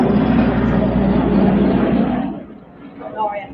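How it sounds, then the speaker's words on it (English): A helicopter passes overhead near an RAF base, its engine and rotor roar loud and broad for a couple of seconds before fading away, with a voice speaking faintly underneath. "Helicopter coming over."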